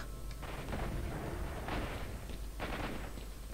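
A huge gun fires in the video game S.T.A.L.K.E.R. Shadow of Chernobyl, with a few heavy blasts spaced over a few seconds above a steady, noisy rumble of background sound.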